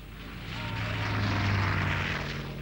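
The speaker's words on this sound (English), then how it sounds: "He was flying the GB Racer, a pudgy barrel of a plane notorious for its deadly stability problems." A Gee Bee racer, a stubby barrel-bodied propeller plane, drones past at an air race, a steady piston-engine hum that swells and holds, moderately loud with no voices.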